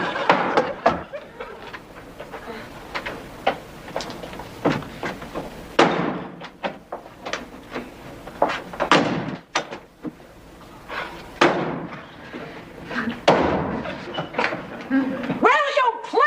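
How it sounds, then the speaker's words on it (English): Doors and drawers thud and slam repeatedly in a home during a sitcom scene, sharp irregular knocks and bangs mixed with people talking. "Will you please stop slamming the doors?"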